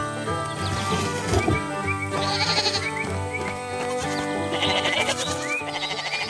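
White sheep bleating on a quiet farm beside a wooden fence and old wooden building, several drawn-out bleats overlapping across the stretch with a steady backdrop of music-like tones.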